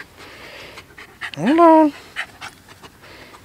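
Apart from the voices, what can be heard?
dog panting and whimpering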